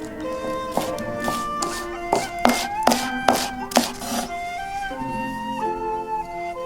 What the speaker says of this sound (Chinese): 生姜5克切成细丝，香葱2颗切成葱花